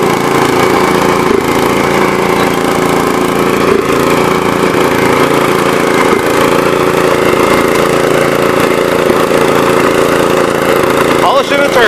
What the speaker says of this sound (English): I'll finish power brooming